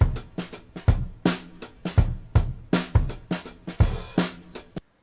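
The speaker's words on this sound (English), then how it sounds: "That's what the Apple loop sounds like" Apple loop at normal speed, a steady percussive beat of sharp, evenly spaced hits with pitched tones between them, played alone and ending abruptly.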